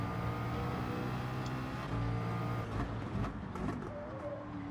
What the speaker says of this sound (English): Revving the throttle, trying to get on the throttle as soon as we can.